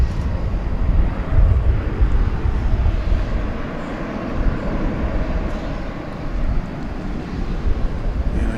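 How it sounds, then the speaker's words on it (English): An Atlas Air Boeing 747-400, flight 193 from Toronto, arriving at DFW Airport on a windy night: a low, rumbling jet engine drone swelling and easing, mixed with gusty wind buffeting, no talk. "Atlas Air Flight 193 coming in from Toronto"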